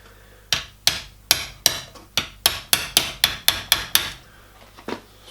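Metal sheet being hammered over an aluminium bar used as a dolly during a 5-inch gauge model steam locomotive build, about a dozen sharp, evenly spaced blows close by, ringing briefly, with no talk.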